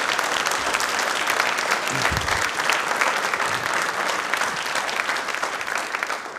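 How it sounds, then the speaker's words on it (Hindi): Audience at a Babasaheb Ambedkar Jayanti programme applauding, dense, continuous clapping that stays loud and even for several seconds before easing slightly at the end. "ताली आपके लिए दिल से एक बार वापस बजती हैं।"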